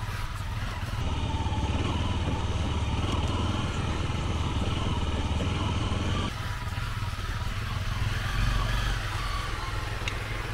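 An offroad motorcycle rides along a rut on a trail, its engine a steady, close droning rumble with rough, gritty noise throughout.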